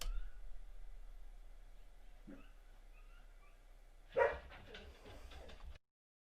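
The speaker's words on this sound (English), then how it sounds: "My dogs hear the dogs yelling outside, and they're yelling in the room next door." Several dogs barking and whimpering from the next room, sounding muffled and fairly faint, with a louder burst of barking near the end before the sound cuts off.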